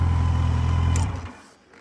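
Motorcycle engine idling with a steady low rumble, then cutting off about a second in and fading to quiet.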